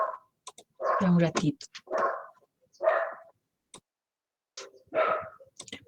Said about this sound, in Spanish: Hay perros ladrando por aquí.